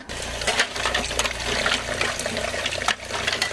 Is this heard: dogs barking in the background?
no